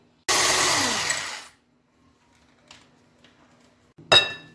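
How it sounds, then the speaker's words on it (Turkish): An electric hand mixer whisking eggs and sugar for pancake batter whirs loudly for about a second, then stops; a few light clinks and a brief second burst follow. "Bir dakika çırpıyoruz mikserle."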